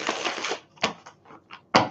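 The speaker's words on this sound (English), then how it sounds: "Let me shuffle these cards a couple more times here" Tarot cards being shuffled by hand: a quick riffling burst up front, then a few sharp separate snaps and flicks of the deck, close and fairly loud, with no voices.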